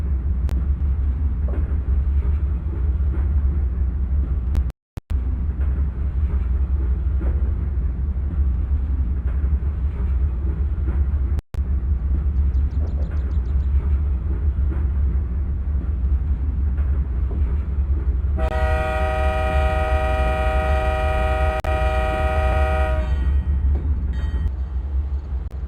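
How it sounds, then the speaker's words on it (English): Steady low rumble of a train in a train driving video game, continuous and loud, with two brief dropouts and a sustained horn blast late in the sequence. "The train is slowing down smoothly and staying within the speed limit"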